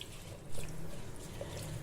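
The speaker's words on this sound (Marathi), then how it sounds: "ही डाळ आता आपल्याला धुवून घ्यायची आहे।" Toor dal being rinsed with water inside a pressure cooker, giving a faint, soft swishing and trickling that runs steadily through the short stretch with no voices.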